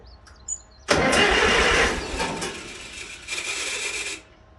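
A choked engine cranks over in one long, harsh burst that starts abruptly, rasps loudly for about three seconds, then cuts off, close by with no voices.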